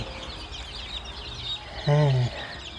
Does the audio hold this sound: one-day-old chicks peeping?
yes